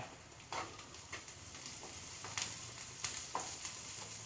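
Onions sizzle quietly in a pan, a faint steady frying hiss broken by a few soft stirring scrapes.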